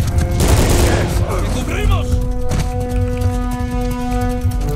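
Gunfire in Uncharted 4: A Thief's End, a loud burst of shots at the start that fades into echoing reports, over steady game music and ambience.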